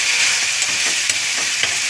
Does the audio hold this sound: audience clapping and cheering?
no